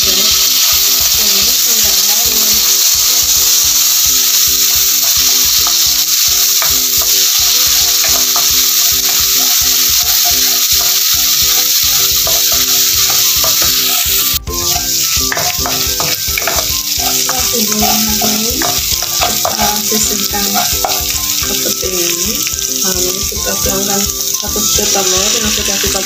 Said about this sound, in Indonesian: kita tumis bumbunya ya